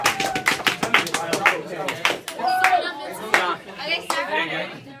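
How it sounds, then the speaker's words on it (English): A classroom of students gives themselves a round of applause after finishing a psychology experiment, a short burst of uneven, close hand claps with voices talking over them. "Give yourselves a round of applause"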